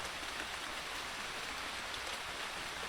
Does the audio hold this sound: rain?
yes